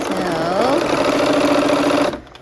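Sewing machine stitching a quarter-inch quilt seam across a block intersection, a steady mid-pitched motor whir running close and continuous for about two seconds before stopping abruptly.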